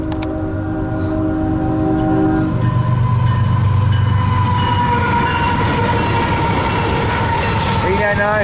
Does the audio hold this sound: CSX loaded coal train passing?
yes